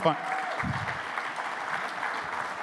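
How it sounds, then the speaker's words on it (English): A crowd applauds steadily at the end of a talk, a continuous moderate patter of many hands with a brief voice at the very start. "One final round of applause."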